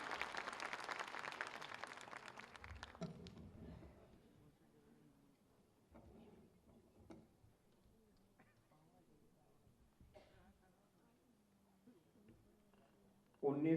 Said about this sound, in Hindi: एक बार जोरदार तालियां बजाकर हम सब महाराज जी को आहुत करें।